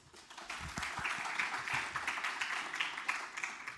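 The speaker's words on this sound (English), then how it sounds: "a huge round of applause for completing 10 years of Code Gladiators" A crowd at a coding contest's grand finale and award ceremony applauds, the clapping swelling in after a quiet start and holding steady, moderately distant.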